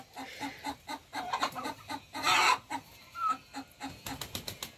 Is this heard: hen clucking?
yes